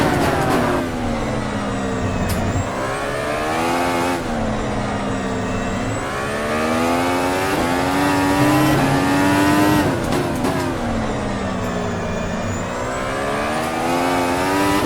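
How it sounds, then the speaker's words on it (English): Race car accelerating hard on the throttle, a loud close engine revving and climbing through the gears in repeated rising sweeps, steady and continuous with no voices. "Hard on the throttle."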